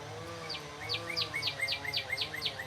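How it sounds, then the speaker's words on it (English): A cardinal sings outdoors on an early summer morning, a steady series of about nine clear, sweeping whistled notes repeated at an even pace over faint low background hum. "That was a cardinal."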